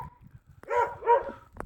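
A dog barks twice in quick succession, loud and close, outdoors during a blizzard with heavy snowfall and strong wind, over a low rumble of gusts.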